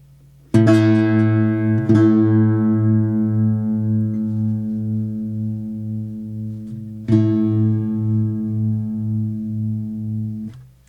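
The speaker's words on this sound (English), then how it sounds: "If this note is out of tune" A single sustained out-of-tune guitar note rings out, struck a few times, its tone wobbling in a slow, regular pulsing beat as it fades.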